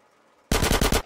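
Rapid automatic gunfire in the video game GTA San Andreas Definitive Edition, bursting in loud and close after half a second of quiet, with several quick shots in succession.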